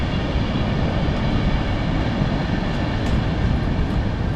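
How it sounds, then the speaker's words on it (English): A train rumbles past at night near a narrowboat moored by the railway track, a loud, steady low roar with a broad wash of noise, close and continuous, with no voices over it. "The trains are going slower."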